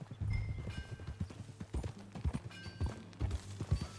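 Horse hooves clip-clop in a steady rhythm while riding in Red Dead Redemption 2, close and prominent, with no talk over them.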